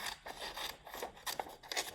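Scissors snip through paper during a pre-K occupational therapy cutting activity, a series of short, close, crisp cuts in an uneven rhythm with no talking.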